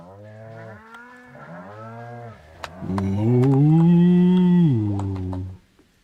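Cows in the Stardew Valley video game moo in a series of long, drawn-out calls. The last call is louder and sustained, and there is no talk over them.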